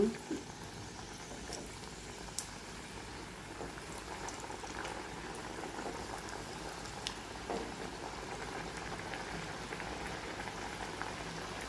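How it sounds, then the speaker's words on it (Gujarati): Soft, steady sizzling and crackling of dough dumplings for churma laddu frying in oil, with occasional small pops, quiet and close. "આપણે મૂઠિયા છે તે શેકી લેશું અથવા તળી લેશું"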